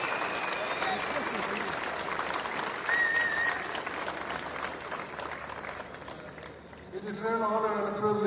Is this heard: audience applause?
yes